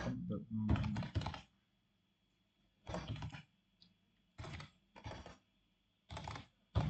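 Quick bursts of typing on a computer keyboard while entering text in Illustrator, arriving in short clustered runs of close key clicks separated by brief silences.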